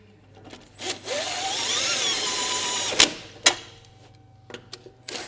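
Power tool running a sustained whir for about two seconds while snugging lug nuts onto a trailer wheel hub and drum assembly for a 5.2K or 6K axle, followed by a few sharp clanks and knocks.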